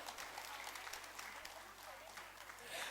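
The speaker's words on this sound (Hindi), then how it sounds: "तालियों के साथ हम अभिवादन करें" Audience applauding at a literary and journalism award ceremony, faint, dense clapping heard at a distance under a low electrical hum.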